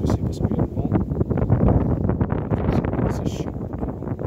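Strong wind blowing outdoors and buffeting the microphone as a loud, continuous rough roar with gusty fluctuations.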